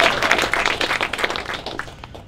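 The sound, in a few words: applause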